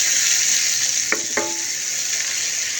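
Chopped hot onions fry in oil in a pan with a little salt, giving a loud steady sizzle close by, broken by two brief scraping stirs near the middle.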